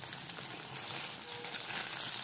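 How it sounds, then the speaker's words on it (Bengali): Small pieces of pona fish frying lightly in hot oil, a steady, dense sizzle close by and unbroken throughout, with no voices. "তো মাছগুলো আমি ভেজে নিচ্ছি"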